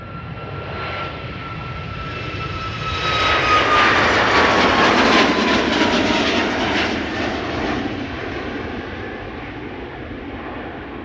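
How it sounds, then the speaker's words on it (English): A SunExpress Boeing 737 MAX 8, bound for Izmir, departs Amsterdam Schiphol. Its engine roar swells to a loud peak as it passes nearby, with a faint whine on top, then fades gradually. "Next up, Sun Express, going to Izmir in Turkey, a MAX 8 737, 6 years old, first flight May 2019."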